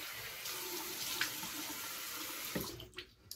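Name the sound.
cold water splashing from tap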